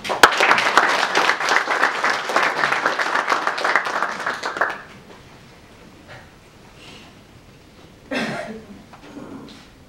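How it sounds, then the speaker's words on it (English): An audience at a presentation applauds loudly with dense, sustained clapping for about five seconds before it dies away, leaving a quiet room with a few faint stray noises and a brief burst of sound near the end. "please give her a warm round of applause"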